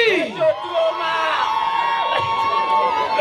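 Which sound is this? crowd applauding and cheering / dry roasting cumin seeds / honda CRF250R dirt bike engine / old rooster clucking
crowd applauding and cheering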